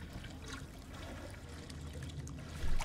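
Rising water in the Call of Duty Advanced Warfare video game, a steady rushing, trickling flow with a louder surge at the end.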